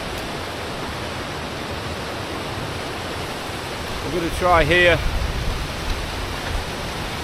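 A deep, fast-flowing river on Scotland's Cape Wrath Trail makes a steady, loud, broadband rush close by, and someone speaks briefly over it.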